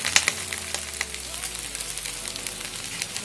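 Okra and green chilies fry steadily in hot oil, a close, even crackling sizzle with a few sharper pops near the start and no talking.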